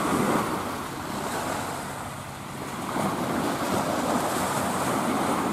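Calm sea on a sandy beach at Miyajima, a soft continuous wash of gentle surf with slight swells and easing, mixed with low wind rumble against the microphone, no voices.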